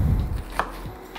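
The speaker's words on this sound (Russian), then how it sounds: "Я пока могу еще нарезать немного лука для картошки." A knife chops onion on a board for fried potatoes, giving three or four crisp, separate cuts close by in a quiet kitchen.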